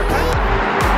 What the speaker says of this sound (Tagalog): Superfast Ferrari.